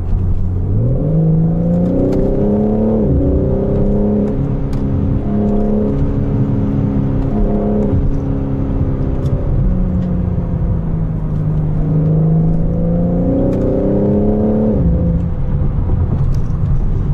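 A BMW M4 Convertible facelift's engine revs up and down repeatedly from about 2000 rpm, its rising and falling exhaust note with popping loud and close, droning continuously throughout.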